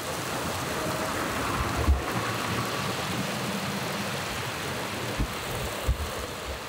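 Steady rain falls in a dense, continuous hiss, with a couple of faint low thumps that may be distant thunder.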